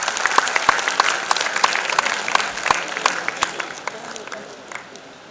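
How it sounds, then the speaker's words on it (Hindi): An audience in a hall with balcony and floor seating applauding loudly: dense, close clapping with a few sharper claps standing out, fading somewhat toward the end, with some voices mixed in. "जो ज़मीन पर बैठे हैं उनके लिए एक बार जोरदार तालियां बजाकर"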